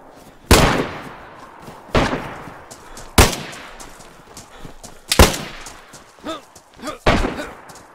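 Sharp, loud gunshots crack in the survival game DayZ, five or six single shots spaced about a second apart, with voices shouting in between.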